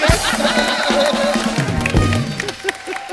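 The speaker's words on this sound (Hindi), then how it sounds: "एक बार जोरदार तालियां भाई साहब के लिए।" Studio audience on a Hindi comedy talk show bursts into loud, sustained applause and cheering, a dense wash of clapping and crowd voices that holds steady for a few seconds before easing slightly.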